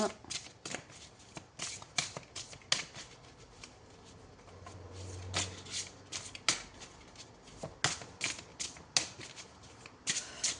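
Tarot cards being shuffled and handled, a dense run of crisp riffling and snapping flicks close by that goes on almost without pause, with a short low hum in the middle.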